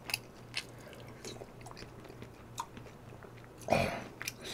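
Close, soft chewing of beef shabu shabu with rice, with intermittent moist bites and a louder crunchy mouthful near the end over a quiet background hum.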